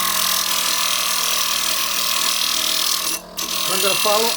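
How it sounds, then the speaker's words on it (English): Stained glass on a flat lap grinder, ground against the spinning lap down to the score line, giving a steady loud whirring grind that drops out briefly near the end before resuming. "Turn my flat lap on, and then with the score side facing you, we're going to grind down to the score line."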